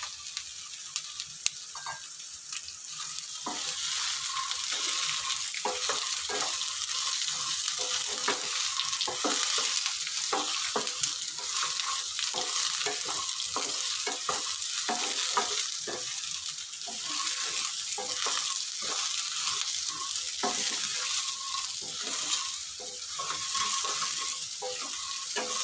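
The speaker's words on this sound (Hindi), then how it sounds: "सोयाबरी को भी हम 2 मिनट के लिए तेल के साथ उसको फ्राई कर लेते हैं।" Peanuts and soy chunks fry in hot oil, giving a continuous sizzle with scattered crackles and pops and occasional stirring scrapes, steady and close throughout.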